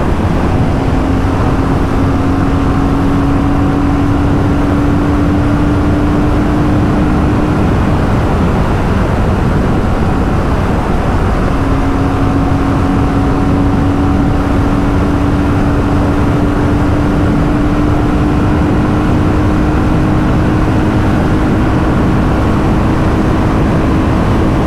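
A BSA Gold Star 650 or Super Meteor 650 motorcycle accelerates at full throttle, heard as a loud continuous engine drone with a rising tone over heavy wind rush, steady throughout with no speech.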